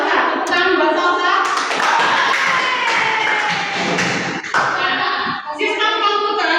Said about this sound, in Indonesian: Tepuk tangan buat Salsa.